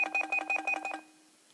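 A telephone rings in rapid repeated electronic bursts, about six short pulses in one second, loud and close, then cuts off into quiet room hiss.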